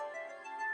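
A steady phone ringtone for an incoming call chimes continuously, a bright melodic tone repeating without pause at moderate loudness, with no voices over it.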